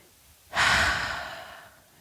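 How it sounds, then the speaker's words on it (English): A single deep, close exhale lasting about a second, soft and breathy, taken while holding a yoga balance pose during a kids' yoga story session. "Just take a couple breaths here."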